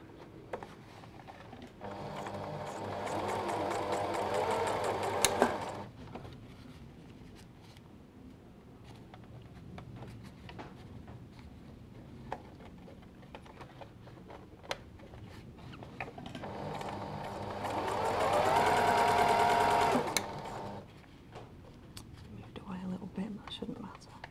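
A sewing machine stitches a concealed zip in two runs of steady mid-level whirring, with quiet whispered talk and light handling noises between the bursts.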